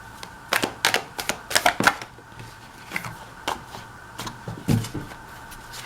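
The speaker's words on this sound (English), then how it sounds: "First thing I do is I only shuffle my cards." Quick papery snaps and riffles of tarot cards being shuffled, coming in bursts of several sharp flicks with short pauses between, close and fairly crisp.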